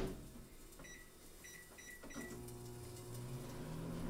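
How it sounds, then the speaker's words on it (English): A microwave oven heating rice hums steadily, with a few short beeps early on. "pop it in the microwave for a couple minutes, and it's good to go"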